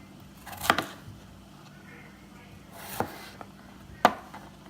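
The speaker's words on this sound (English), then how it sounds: "I'm gonna go ahead and get started cutting up my potatoes" A knife chops potatoes sharply against a cutting board three times, spaced irregularly, close up in a quiet room.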